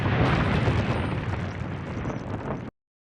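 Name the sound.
large explosion of an air compressor in a film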